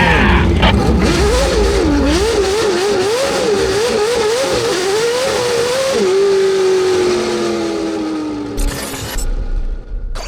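A loud, high-revving 1000hp naturally aspirated 10,000 RPM C8 Corvette drift car engine wails and warbles up and down through rapid throttle blips, then holds a long falling tone as it slides past nearby.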